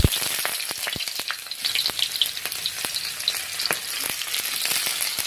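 Chopped onions frying in hot oil with panch phoron, a close, steady sizzle dotted with rapid crackling pops throughout.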